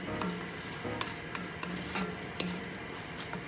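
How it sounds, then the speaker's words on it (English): Wilting greens are stirred in a pot for ribollita soup, with soft, irregular scrapes and taps of the spoon over a faint background sizzle, close but quiet. "So as our greens start to wilt, we keep stirring and stirring."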